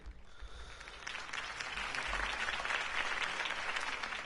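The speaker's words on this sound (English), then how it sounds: "could have heard that applause" Applause in the Batman Season 1 video game: a crowd claps, building from scattered claps into a fuller, sustained round of applause at a moderate distance.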